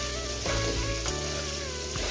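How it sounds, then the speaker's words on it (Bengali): Potatoes fry in very hot oil seasoned with turmeric and salt for a spicy katla fish curry, making a loud, continuous close sizzle with a stirring sound partway through. "আলুটা খুব সুন্দর করে লাল লাল করে ভেজে নেব"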